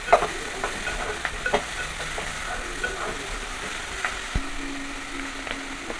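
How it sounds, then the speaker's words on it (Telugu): Moringa drumsticks, onions, cumin, mustard seeds and curry leaves stirred as they fry in a pan, giving a steady low sizzle with faint, scattered scrapes and taps of the spoon. "ములక్కాడలు వేసి కొంచెం కరివేపాకు కలుపుకోవాలి."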